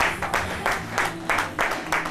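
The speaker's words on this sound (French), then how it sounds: "On va applaudir très fort, s'il vous plaît, pour notre invitée de ce soir, Julienne." A studio audience applauds a female guest on a French evening talk show, the clapping rising in several bursts that swell and fade across the short stretch, fairly near and lively.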